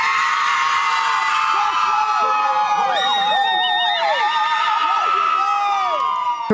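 Family and loved ones of victims cheer and whoop from a riverbank as a young woman jumps into the river, with loud, dense crowd shouting and excited yells close by throughout.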